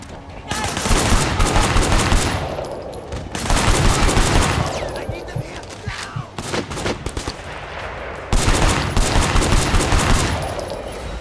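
Gunfire in the video game Sleeping Dogs: repeated loud volleys of rapid shots in several long bursts separated by brief lulls, close and harsh, with scattered single cracks between the volleys.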